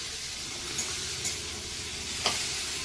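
Shrimp frying in a pan, a steady close sizzle and hiss with a couple of brief spatula clinks and no voices.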